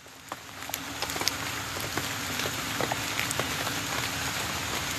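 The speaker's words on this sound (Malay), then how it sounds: "Hujan tu." Rain falls steadily onto a surface, a constant wash of noise punctuated by scattered sharp drips and taps, close and fairly loud, with no talk.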